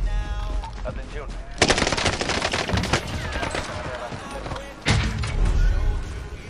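Rapid bursts of Warzone gunfire, automatic fire crackling repeatedly with sharp shots, with a voice talking over the action.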